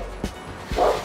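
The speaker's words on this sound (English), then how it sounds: "Those are my guard dogs." A couple of short dog barks, one early and one later, followed by a brief whine, fairly close against a low background hum.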